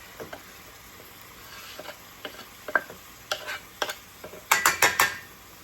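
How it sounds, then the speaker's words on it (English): Chicken browns in a skillet with a soft background sizzle, broken by a series of sharp utensil scrapes and clinks against the pan that grow busier and louder toward the end. "this chicken I'm going to go ahead and add to our skillet, and we're going to brown it up"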